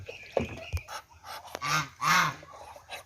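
Geese on a poultry farm honk loudly and close by in a few raspy, drawn-out calls, with brief gaps and short squawks between them.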